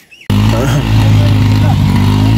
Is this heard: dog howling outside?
no